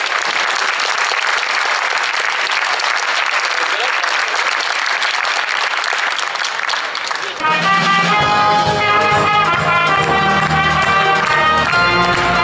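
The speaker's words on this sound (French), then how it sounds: "On les applaudit bien fort." A sports awards crowd applauds loudly for ultra-trail runners, a dense sustained roar of clapping that gives way partway through to loud music.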